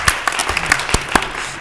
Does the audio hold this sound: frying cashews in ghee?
no